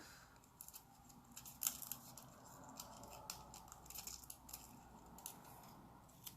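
Small scissors snipping a strip of nail transfer foil, a few faint, close clicks and crinkles over a quiet room, with no speech.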